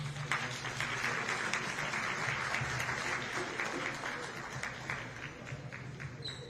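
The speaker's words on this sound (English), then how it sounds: "Please give them a applause." Steady crowd applause at a Juneteenth celebration, sustained and fairly even throughout, with a few voices faintly mixed in.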